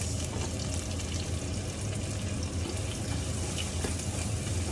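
Garlic and onion hit a hot frying pan, producing a steady, dense sizzle that stays loud and even throughout without pause.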